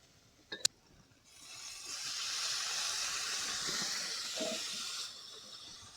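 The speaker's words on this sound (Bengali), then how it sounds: "এবার দিয়ে দিব ভাবিয়ে রাখা ওলের ডাটা" Soaked elephant foot yam stalks drop into spices fried in oil and set off a loud, steady sizzle, preceded by a couple of sharp clicks and fading slightly near the end.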